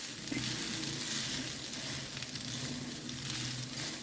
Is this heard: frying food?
yes